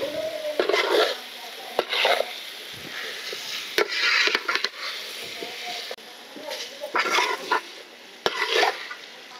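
Parboiled raw jackfruit pieces frying and being stirred in a pan for Andhra-style biryani, steady sizzling broken by repeated sharp scrapes and clacks of a spoon against the metal, with someone speaking intermittently.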